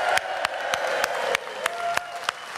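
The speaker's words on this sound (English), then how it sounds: "Give yourselves a round of applause." Applause from a crowd at a Brexit rally in Gateshead, a continuous wash of clapping broken by sharp, louder claps at irregular intervals, with a faint tonal sound drifting underneath.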